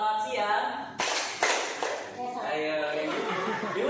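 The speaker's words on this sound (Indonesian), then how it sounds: "Bapak Ibu sekalian tepuk tangan 2 kali" Two sharp claps close together come from an audience in a teaching session, clapping twice on cue. Murmuring chatter and light laughter sound around them.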